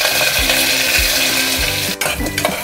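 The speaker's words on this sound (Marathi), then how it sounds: "आता फोडणीसाठी कांदा आणि कढीपत्ता टाकलाय" Chopped onion and curry leaves tempering in hot oil with mustard seeds in a pan: a continuous crackling sizzle with repeated rhythmic scraping knocks of a spoon, close and loud, no talking.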